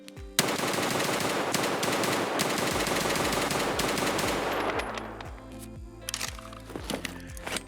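SR25 DMR rifle fired from the hip in Escape From Tarkov: a rapid, loud string of sharp gunshots for several seconds, then a few slower, spaced shots with fading echoes.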